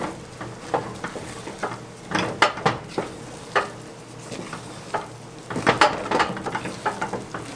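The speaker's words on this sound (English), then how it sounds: "switch to a spoon, add in the nuts, and just stir, stir, stir until everything is combined" A spoon stirs nuts into thick, hot pecan brittle mixture in a pan, with repeated scraping clinks and sticky stirring strokes over a faint sizzle, close and fairly loud, with no talking.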